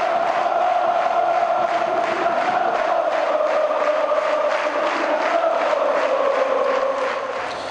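Atlético-PR supporters fill the stadium with a steady roar of cheering and chanting, a dense, loud crowd wash that rises in rhythmic pulses and holds throughout.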